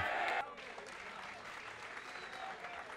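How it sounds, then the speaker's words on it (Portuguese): Audience at a rap battle applauds after a round, a sustained wash of clapping that follows a brief burst of louder sound at the start. "Vamos aplaudir, vamos agora para o intervalo rápido."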